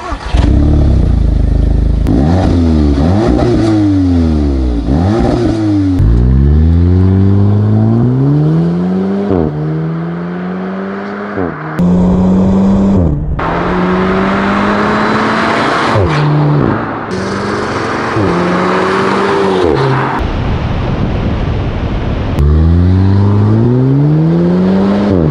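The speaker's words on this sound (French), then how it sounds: "on se retrouve avec une voiture que j'affectionne tout particulièrement, l'Audi TTS 310 chevaux, donc le même moteur que sur l'Audi S3" An Audi TTS with a 310 hp engine revs and accelerates hard through repeated gear changes, loud and close, each pull rising in pitch before dropping at the shift, with brief lulls between runs.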